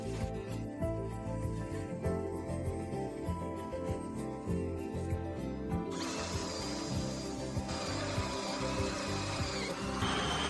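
An electric drill boring 6.5 mm holes into the opening right rear door of a Ford Custom for the final latch, a steady near whirring with tool and metal noises throughout, no talking.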